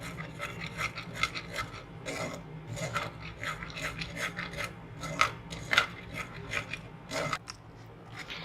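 Ground tamarind, date and pomegranate chutney being pushed and scraped through a sieve, giving repeated close rasping strokes in an uneven rhythm.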